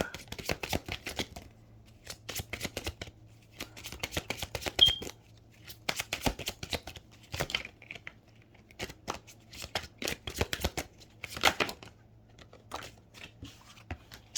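Tarot cards being shuffled by hand in a quiet room: repeated short riffling bursts in uneven clusters, close and crisp, with a faint steady hum underneath.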